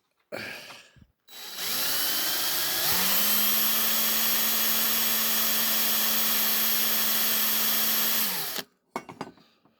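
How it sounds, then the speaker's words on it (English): A drill bores out the rivet post on a Matchbox Super Kings K-18 die-cast articulated tanker, a loud, steady high whine that holds for about six seconds, with brief rattling bursts before and after. "give it a few seconds between taps before you drill again"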